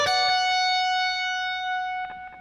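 Distorted electric guitar rake sweep: a quick raked strum into a ringing sustained note that slowly fades, then a brief second pick near the end, played alone.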